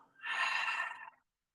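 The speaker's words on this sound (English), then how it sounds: "and exhale." A single deep, breathy exhale during a gentle Pilates session, close and soft, rising quickly and trailing off after about a second into silence.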